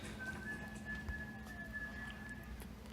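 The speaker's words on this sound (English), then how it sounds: "I think this might be the first episode that he whistles in." A single thin, sustained whistle from a character in an episode of The Wire, held steady for about two seconds, faint under a low background hum.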